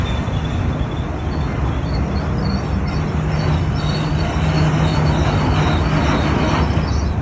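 Freight train of auto rack cars from several railroads rolling past steadily at close range, a continuous loud rumble and clatter of wheels with faint high squeal, no voices.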